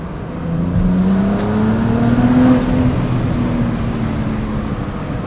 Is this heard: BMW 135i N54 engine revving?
yes